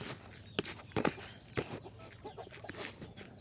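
Laying hens cluck and squawk intermittently nearby, short sharp calls scattered over a steady farmyard background.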